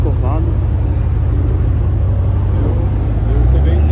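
An Audi RS6 sports car pulls away on a São Paulo street, its low engine rumble steady and close with a rise near the end, while people talk over it.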